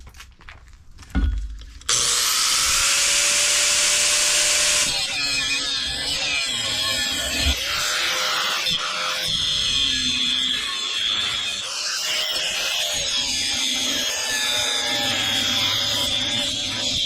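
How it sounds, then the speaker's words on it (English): An angle grinder cuts metal off a Henke snow plow being modified for a Peterbilt truck, starting after a brief clunk with a loud, sustained high whine and grinding that shifts in pitch as the disc bites, heard close and without talk. "let me grab my grinder. We'll get these off"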